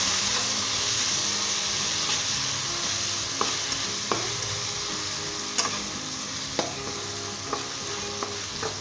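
Boiled macaroni with tomatoes sizzles in a pan while being stir-fried, with a steady frying hiss broken by scattered clicks and scrapes of a spoon against the pan, close and moderately loud.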